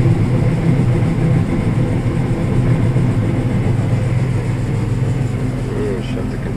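A combine harvester engine idles down during a corn harvest, a loud, steady, close diesel drone that holds evenly throughout with a slight easing of level.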